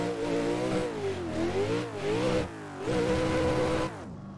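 A Nissan 400Z drift competition car engine revs hard in repeated rising and falling pulls, loud and close, as the driver warms up the tires before a run, ending in a brief drop.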